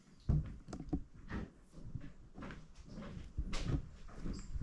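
An old door in the Bodie ghost town in California is opened, giving a series of wooden knocks, creaks and rattles over several seconds, fairly close.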